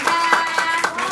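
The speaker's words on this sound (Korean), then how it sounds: "우리 재현이가 실제로 하나님의 힘을 얻고 영광 돌리는 랩넌트로 도약할 수 있도록 우리 박수 쳐줄게요" Congregation clapping in steady rhythm during a Sunday church service, about four claps a second, mixed with a sustained musical tone.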